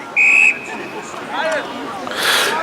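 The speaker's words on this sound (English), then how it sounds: "Now the umpire's blown the whistle, not happy about something." An umpire's whistle at an Australian football match sounds one loud shrill blast, followed by crowd murmur and distant calls from the ground.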